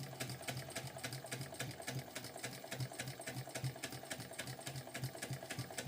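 Sewing machine back stitching a seam on a sling bag, a steady fast mechanical whir with rapid needle chatter, close and continuous throughout.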